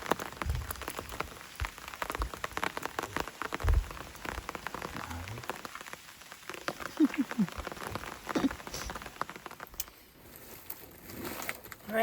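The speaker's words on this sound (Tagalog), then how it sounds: "Lumakas na naman ang ulan mga kakain do." Rain falling steadily at night at a fishing spot, a dense, continuous patter with scattered louder drops throughout.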